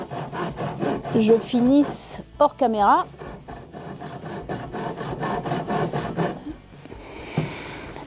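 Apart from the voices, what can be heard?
hand saw cutting driftwood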